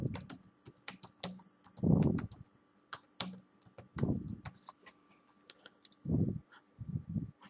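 Typing a caption on a computer keyboard, with clusters of quick key clicks in short bursts separated by brief pauses, close and clear with no speech.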